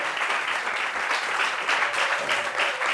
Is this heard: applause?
yes